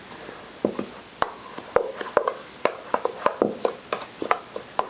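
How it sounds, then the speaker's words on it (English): Rosemary being mixed into salt by hand, a close, quiet series of irregular gritty scrapes and light taps in quick succession, alone without talk. "add our rosemary to the salt. And just mix it through"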